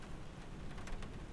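Simulated rain pattering on an airliner's fuselage and wings in a flight simulator, a steady dense hiss of drops with faint low rumble underneath, no voices.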